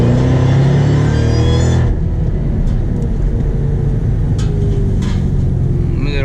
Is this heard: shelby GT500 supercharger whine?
yes